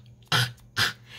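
A dog coughs and clears its throat after drinking water, with two short, rough bursts close by and a brief quiet gap between them.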